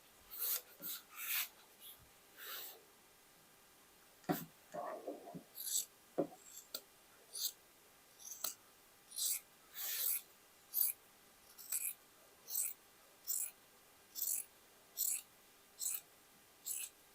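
Scissors cutting men's shirt fabric for an upcycled dress, with a steady series of soft, evenly spaced snips close by after a few quieter rustles at the start.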